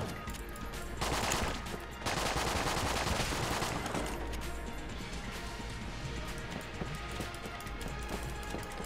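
Gunfire from a gun in the game Enter the Gungeon crackles in rapid, repeated bursts, with louder volleys around the first few seconds and then a steady stream of quieter shots and impacts.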